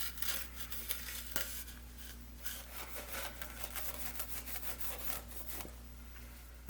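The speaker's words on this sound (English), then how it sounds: "So I got a damp microfiber cloth here." A damp microfiber cloth wipes dust off an old clock, making soft, quiet rubbing and scuffing strokes in an irregular rhythm over a low steady hum.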